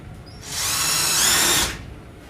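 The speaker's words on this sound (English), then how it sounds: "And drill the other side." A power drill whines up and bores into wood with a self-centering bit for about a second, high and buzzing, then spins down, close by with no talking.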